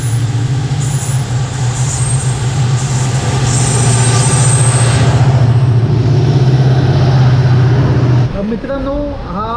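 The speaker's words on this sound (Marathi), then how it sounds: "त्या साईडला जाणार ही बघा ही ट्रेन आली" A diesel passenger train pulls in on the Konkan line toward Vasco da Gama, a loud, close engine drone and rumble that holds steady for several seconds and then cuts off, with voices faintly present.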